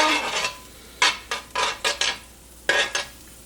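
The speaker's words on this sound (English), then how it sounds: "Apologies for the scraping if you don't like that sound." A metal utensil scrapes against a pan while cooking banana pancakes in a series of short bursts, separated by brief pauses, close and fairly loud.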